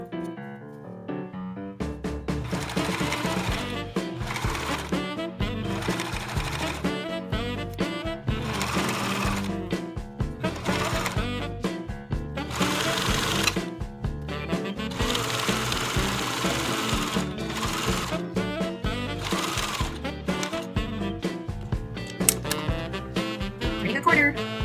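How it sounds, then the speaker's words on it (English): A roughly 30-year-old Kenmore sewing machine stitches along the edges of a homemade baby blanket, with a loud, steady mechanical whirring and rapid needle chatter running continuously in short bursts and pauses, heard up close. "And the sewing begins. Got my Kenmore out."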